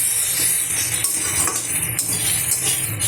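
Spices and bitter gourd sautéing in a pan over low gas: a steady close sizzle broken by scraping and clinking as a utensil stirs against the metal, with no voices.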